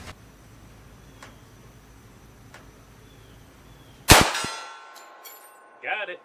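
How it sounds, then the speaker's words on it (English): A 1911 pistol fires Remington ammunition at a steel target 50 yards out: a faint metallic ping or two over quiet outdoor background, then a sharp loud gunshot that rings and decays, followed by a brief distant clang. "here goes a full mag plus one at 50 yards with that Remington ammo"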